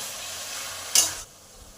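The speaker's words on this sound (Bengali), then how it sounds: "মশলাগুলোর সাথে শাকটাকে 5 মিনিট কষে নেব" Taro leaves sautéing with spices in a pan over high flame, a steady sizzling hiss with a brief louder burst of stirring near the middle before settling quieter.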